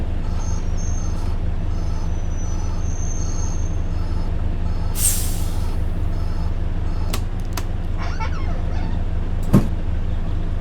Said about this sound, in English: the reason why I apply handbrake is that when I changed from reverse to drive